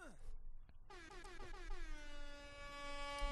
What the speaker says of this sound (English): Yes, Jamaican air horn.